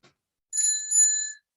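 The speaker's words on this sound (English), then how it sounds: "All sessions which are timed will have a bell ring like" A timekeeping bell at a formal opening ceremony rings twice in quick succession, clear and bright with a lingering ring, alone without talk.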